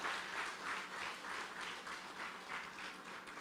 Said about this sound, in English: please join in giving them a round of applause for the hard work they are doing